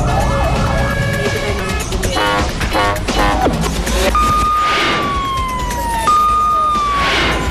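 A loud fire truck siren wails nearby, its tone sweeping up and down over traffic rumble, with a second siren layered in partway through.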